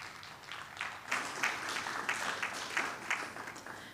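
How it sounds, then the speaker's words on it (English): Applause fills a room at a conference forum: many hands clap in a fairly quiet, steady patter that swells a little near the middle and carries on to the end, with no talking. "Please help me with a round of applause to Soma and our sponsors."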